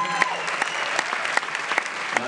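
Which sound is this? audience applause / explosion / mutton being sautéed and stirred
audience applause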